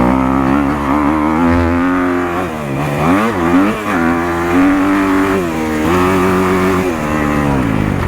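A stock 2023 Kawasaki KX250 dirt bike rides a motocross track at Glen Helen, its engine loud and close, revving up and down continuously as the rider shifts and accelerates.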